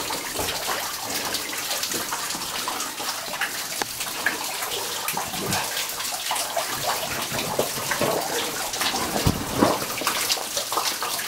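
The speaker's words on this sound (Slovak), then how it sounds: "Je malý vodopádík." Small waterfall in a cave in the Orava region, a steady close splashing and pattering of falling water that fills the space without pause.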